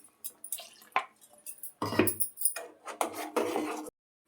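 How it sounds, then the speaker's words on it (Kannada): Mixer jar rinsed with water in a kitchen, close clinks and sloshes of glass and metal in short irregular bursts with brief pauses, no talk. "ಸ್ವಲ್ಪ ಜಾರ್ ತೊಳೆದು ನೀರು ಹಾಕ್ಕೊಳ್ತೀನಿ."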